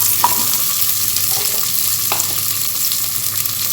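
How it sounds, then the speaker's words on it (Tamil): Chopped onions go into hot oil in a pan for mutton kurma and fry with a continuous sizzle, broken by a few sharp spatters and stirring scrapes. "வெங்காயம் போட்டு வதக்கலாம்"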